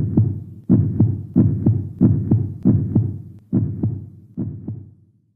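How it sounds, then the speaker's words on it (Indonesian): A heartbeat sound effect in a horror story narration thumps steadily in low, muffled double beats, about eight evenly spaced pulses, heard alone without any talking. "Jantung Mamat berdegup kencang"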